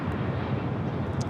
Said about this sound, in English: 24 left, clear for takeoff, Emirates